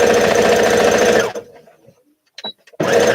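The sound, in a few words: sewing machine sewing cuffs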